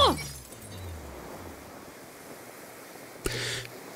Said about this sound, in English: I heard the glass break.